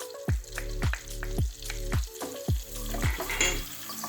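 Garlic sautéing in butter and olive oil sizzles close up in a pan, with a rhythmic series of scraping stirs about every half second over the crackle.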